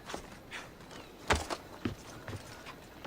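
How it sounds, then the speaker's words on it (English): Footsteps in Assassin's Creed Odyssey, a handful of soft, uneven thuds with a hoof-like clip-clop quality, close and fairly quiet over a light ambient bed. "I could hear your footsteps"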